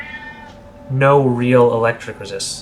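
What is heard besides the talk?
domestic cat meowing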